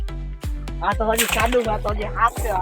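Chunks of ice are dropped into a barrel of water in winter, making a quick series of sharp clunks and cracks close by, mixed with voices and shouts.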